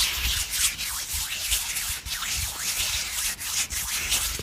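Hands rub together close to the microphone for ASMR, a continuous dry swishing and sanding friction with small rhythmic surges, intimate and fairly loud, with no talking.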